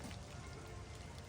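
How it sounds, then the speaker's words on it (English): Rain falling outdoors where a Chrysler SRT is being rebuilt, a faint, steady patter and hiss of drops on surfaces with no talking. "But it's raining."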